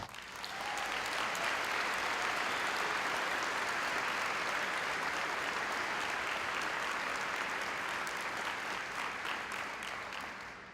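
Applause from a school opening-gathering audience, a full, sustained burst of many hands clapping that holds steady and tapers slightly at the end.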